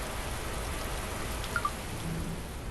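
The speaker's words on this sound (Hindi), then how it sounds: "अच्छा भाई मैं बारिश को बुला भी सकता हूँ" Steady hiss of rain in a video game, soft and even, with a couple of faint drip-like ticks partway through.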